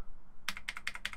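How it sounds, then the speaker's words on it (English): A quick burst of keystrokes on a computer keyboard, about half a dozen crisp clicks in a fast, slightly uneven rhythm after a brief quiet start. "we can toggle through the menu by hitting W and S on the keyboard"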